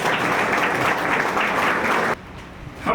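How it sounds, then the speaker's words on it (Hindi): A crowd at an anti-tobacco day awareness event applauds with steady, dense clapping that stops abruptly, leaving a quiet room. "आज के कार्यक्रम के सूत्रधार भाई नीलेश चौधरी जी के लिए भी जोरदार तालियां।"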